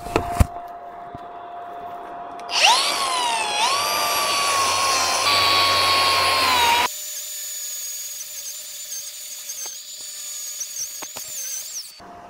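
Power tool fitted with a wire wheel spools up to a high whine and spins against metal for several seconds with a rough scraping edge, then the note shifts to a steadier whine as it runs freely before winding down.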